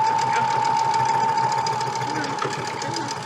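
A domestic sewing machine stitches through bulky layers of quilt pieces, a close, rapid mechanical whir with a steady hum, while a person talks over it.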